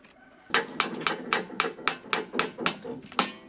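Shims are hammered into rammed earth formwork in about a dozen sharp, evenly spaced blows, loud and close, each ringing out briefly before the next, with no talk over them.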